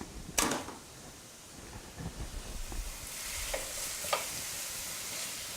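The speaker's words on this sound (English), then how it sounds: "And you want to stir this." Tomato paste being stirred in a casserole dish for an Italian casserole, with soft scraping and a faint sizzle, a sharp clink near the start and a few light knocks later, fairly quiet with no talk.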